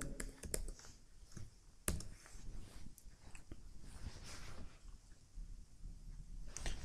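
Keys on a computer keyboard clatter in irregular bursts while someone types an Excel formula, with sharp clicks at close range and a quieter background between strokes.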